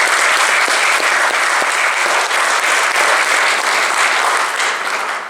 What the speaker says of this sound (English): so a big round of applause for them again